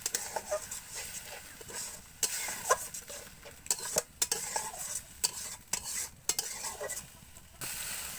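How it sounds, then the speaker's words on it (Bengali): A spoon scraping and stirring masala with a splash of water in a pan, with intermittent clinks and scrapes over a soft simmering sizzle, close and fairly quiet, no talking. "জল দিয়ে ভালোভাবে মশলাটা কষিয়ে নিতে হবে।"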